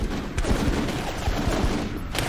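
Sustained volley of gunfire in the military video game Full Spectrum Warrior, a dense stream of overlapping shots running steadily through the short stretch.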